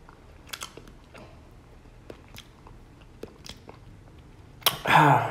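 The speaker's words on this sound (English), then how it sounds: "You really have to chew this thing now. You have to chew it for a while." Raw honeycomb being chewed close to the mouth, soft sticky bites and smacks spaced irregularly, ending in a sudden loud rustling burst.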